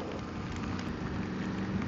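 Rain during a motorcycle tour in wet weather with puddles forming: a dense, steady broadband hiss of falling rain, continuous and fairly close for the whole stretch.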